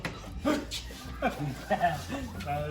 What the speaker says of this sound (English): Excuse the dog. We got a couple of chihuahuas